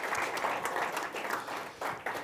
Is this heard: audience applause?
yes